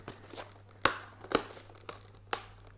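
Plastic wrap is pulled and torn off the box of a Papalook HD 1080p streaming webcam, close crinkling and a few sharp crackling bursts spaced over the clip.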